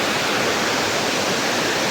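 Darekar waterfall pours with a dense, constant roar of rushing water that stays loud and unbroken throughout, with no voices.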